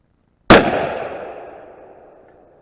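A single loud .300 rifle shot cracks outdoors into homemade ballistic gel blocks, a sharp close report followed by a long decaying echo.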